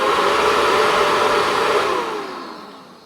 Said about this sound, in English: the motor in the fan definitely works because that's come on